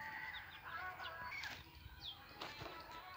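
Chickens at a rural poultry setup in Pakistan give a scatter of short clucks and calls over about three seconds, with a brief flutter of wings partway through, close and moderately loud with no talking.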